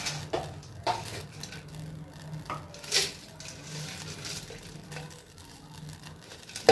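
Spices cooking in a pan on a low flame, a soft sizzle under scattered light clinks and stirring scrapes, close but fairly quiet.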